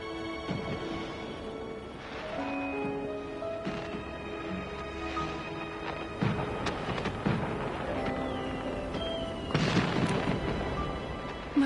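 Fireworks pop and boom in the Infinity Nikki video game, a steady run of bursts over layered game music that swells to a louder cluster near the end.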